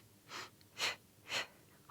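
Three strong breaths taken during a Pilates hip exercise, each a breathy rush of air, evenly spaced about half a second apart and close to the microphone, with quiet between them.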